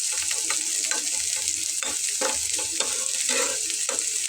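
Food sizzles steadily as it fries in a pan for a Bengali breakfast snack, with a dense, continuous crackle and occasional scrapes of stirring, close and fairly loud, with no talking.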